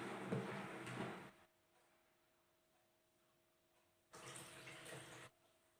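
Soaked mung beans rinsed in water, two short bursts of splashing and sloshing, close and fairly loud, separated by a quiet stretch with a faint hum.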